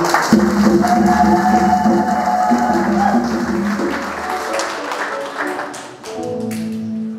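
A congregation applauds during a Catholic Mass: steady, fairly loud clapping that carries on throughout and thins slightly toward the end, with a tonal musical or vocal layer beneath.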